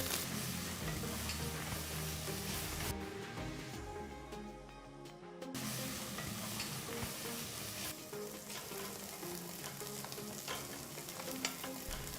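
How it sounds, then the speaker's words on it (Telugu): A small cinnamon stick, star anise, three cardamom pods, eight cloves, two bay leaves and two medium onions sliced lengthwise fry in hot oil. The sizzle is loud and continuous, dips briefly partway through, then returns at full strength, with no talk. "చిన్న దాల్చిన చెక్క, 1 అన్నాసి పువ్వు, 3 యాలకులు, 8 లవంగాలు, 2 బిర్యానీ ఆకులు, పొడవుగా తరిగిన 2 మీడియం సైజ్ ఉల్లిపాయలను వేసి వేయించాలి"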